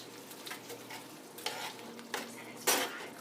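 A spoon works creamy Dijonnaise shrimp sauce around a pan, giving a few distinct scraping strokes over a soft, steady sizzle, close and clear with no talking.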